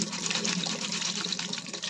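Poha (flattened rice) being washed under a running tap, a steady close hiss and patter of water over the grains with slight fluctuating splashes, continuous and moderately quiet.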